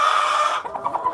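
Chickens being fed corn, with a sharp high squawk followed by a few short soft clucks close by.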